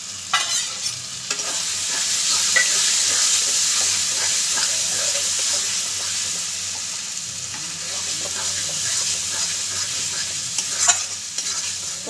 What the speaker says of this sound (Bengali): তেলকটা দিয়ে দিই, কষে নিই একটু।